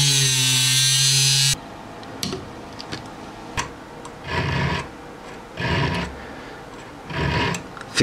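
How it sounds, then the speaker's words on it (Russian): A length of screwdriver shaft is cut off for a homemade tool. After a brief loud tonal passage, three separate bursts of harsh cutting noise come in an uneven rhythm, each lasting about a second, with quiet gaps between them. "Отрезок отвертки, который будет установлен в данную втулку, я отрежу"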